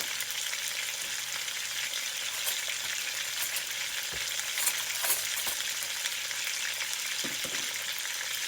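Chicken browning in a pan for Puerto Rican arroz con pollo gives off a steady, loud sizzle and crackle, with a few faint clinks and stirring scrapes now and then.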